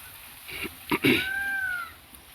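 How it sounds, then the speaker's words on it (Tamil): A peacock calls in a garden in Tirunelveli, a single drawn-out nasal wail rising and sustained for under a second, moderately distant, amid a few short knocks and light background noise. "மயில் சத்தம் கேட்குதா"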